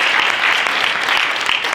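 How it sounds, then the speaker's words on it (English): An audience at an indoor partner convening and panel event claps together in a loud, dense burst of applause that fills the whole short stretch without pause. "can you all give yourselves a round of applause"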